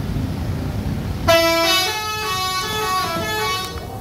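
A double-decker bus rumbles through city traffic in Solo, then a loud sustained horn blares over the engine noise for a couple of seconds before fading.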